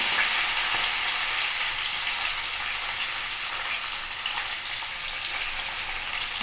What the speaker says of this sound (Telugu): ఇప్పుడు నేను ఆయిల్ వేసానండి దాంట్లో కొంచెం జీలకర్ర ఆవాలు వేసానండి